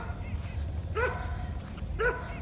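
A hungry dog barks indoors at home around feeding time, giving two sharp, high-pitched yips about a second apart over a low background hum, with a voice talking faintly in the room.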